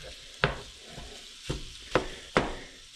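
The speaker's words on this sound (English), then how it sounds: "We're getting up the heat. There's some sizzle." Steady sizzling of mild Italian sausage frying in a pan, with a few sharp clatters of a utensil stirring or scraping at irregular intervals.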